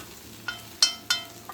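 Asafoetida powder and curry leaves frying in a pan of oil for a greens stem stir-fry: a soft sizzle with a few sharp spatula scrapes or clinks against the pan, fairly close.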